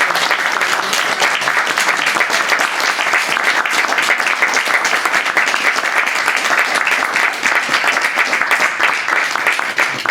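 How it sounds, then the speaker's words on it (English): An audience at a poetry reading gives the poets a sustained round of applause, a loud, dense, unbroken wall of clapping from many hands that continues evenly for about ten seconds. "let's give the poets another round of applause"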